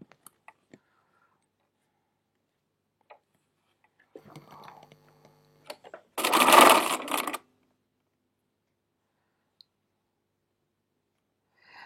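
A sewing machine stitches quilt block fabric in a single quick run of about a second. Scattered soft clicks and fabric handling come before it, and near silence follows.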